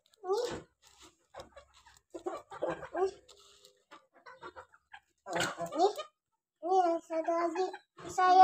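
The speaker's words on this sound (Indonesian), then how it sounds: "Ada dia ayam." A chicken clucks in short bursts close by, mixed with someone talking in Indonesian in between the calls.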